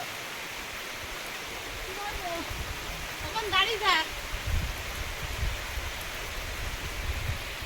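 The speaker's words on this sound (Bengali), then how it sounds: "বৃষ্টি আর জোরে আসছে" Steady heavy rain hisses across the whole scene, a dense even roar, while a person speaks briefly over it.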